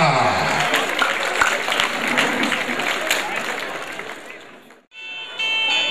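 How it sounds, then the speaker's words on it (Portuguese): Festival crowd in Caicó applauds the arrival of the Pereira brothers, a poet duo from Patos, Paraíba, with loud sustained clapping and cheering that cuts off abruptly near the end before sound resumes. "Vamos receber com os aplausos os irmãos Pereira"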